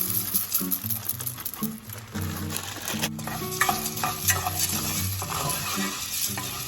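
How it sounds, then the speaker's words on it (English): Onion and small shell pasta sauté in oil for Mexican sopa de conchas, a continuous sizzle over repeated stirring clinks and scrapes of a spoon against the pot. "while the onion and pasta are sauteing"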